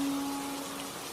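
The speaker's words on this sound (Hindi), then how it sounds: "मैंने ऐसे मूसलाधार बारिश पहले कभी नहीं देखी" Heavy downpour of rain, a steady broadband hiss with a faint constant tone running through, continuous and even without talk.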